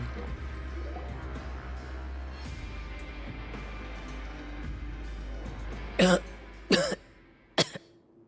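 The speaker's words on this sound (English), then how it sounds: "Fremenay's caught a cold, he's coughing." Character with a cold coughing in Genshin Impact: a quiet game ambience bed, then three sharp separate coughs near the end, close and fairly loud against the low background.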